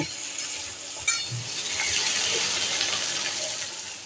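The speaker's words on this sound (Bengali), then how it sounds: "এর মধ্যে আমি এখন পুঁই ডাঁটাগুলো দিয়ে দেব।" Boiled Malabar spinach stems tipped into a hot pan of vegetables for a vegetarian curry, bringing a sudden thump and then a steady, close sizzle that builds and holds, with no one speaking.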